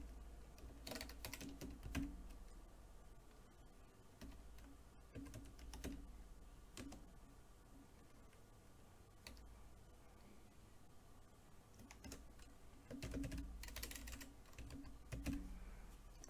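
Keystrokes on a computer keyboard while data is entered into a Microsoft Access form, quiet, close clicks arriving in irregular bursts with pauses between, over a low steady hum and no talking.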